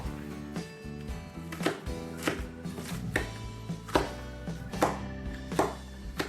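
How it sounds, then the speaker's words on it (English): An onion is chopped with a knife on a board while preparing Ghana light soup, a steady run of crisp thuds and taps, some doubled, landing close and clear at an uneven kitchen pace with no talk. "The whole thing is just for you to get your onion small, well cut."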